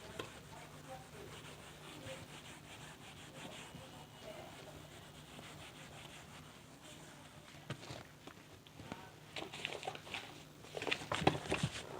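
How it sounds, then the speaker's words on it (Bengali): Writing is rubbed off a classroom board during a maths lesson, heard as faint, scratchy back-and-forth wiping strokes that grow louder and more rapid toward the end. "আচ্ছা, তো এই জায়গাটা আমরা মুছে দিচ্ছি একটু।"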